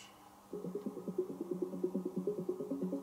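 A synth plug-in part sits in the background of an electronic track, a rapid pulsing arpeggiated pattern of short repeating notes entering after a brief quiet moment and continuing at an even, moderate level.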